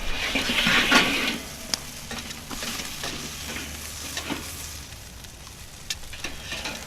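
A steak sears on a hot grill, a close, steady hiss and sizzle that flares loudest at the start, with a few sharp pops and taps as the meat is turned.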